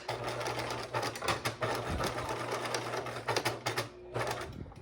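A sewing machine stitches the pocket of a caddy bag in bursts of rapid mechanical clatter, pausing briefly and restarting, close and clear.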